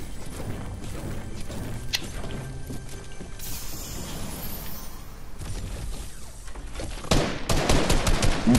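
Enemy gunfire in a VR shooter video game, with steady rattling shots and bursts throughout and a louder cluster of shots near the end, against busy game background noise.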